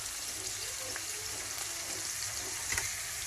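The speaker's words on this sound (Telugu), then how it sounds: "ఇప్పుడు పచ్చిమిరపకాయలు వేసుకోండి కరివేపాకు వేసుకోండి దీంట్లో" Green chillies and curry leaves fry in hot oil for a prawn curry, giving a steady, close, dense sizzle with a brief louder crackle near the end.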